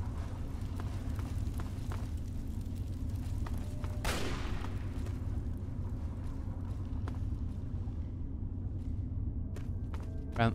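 Gunfire in Fallout 3, with a sharp loud shot standing out over a dense rumbling background and scattered fainter cracks around it.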